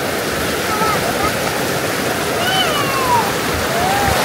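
A river rushes in a steady, full wash of water close by at a riverside campsite, with faint high bird calls above it.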